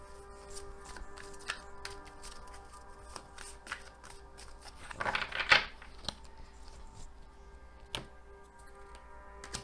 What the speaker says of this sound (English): Just gonna do a quick shuffle.